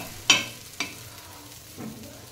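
Vegetables in a pan on the stove, with a few brief scraping stirs and a faint underlying sizzle; quiet, close, with no talking.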